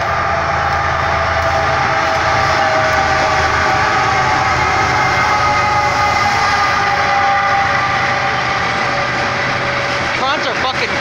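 A BNSF freight train passing in Northeast Minneapolis: a loud, continuous rumble and clatter of rail cars rolling steadily past nearby for the whole stretch, with no one speaking.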